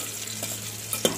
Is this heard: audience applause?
no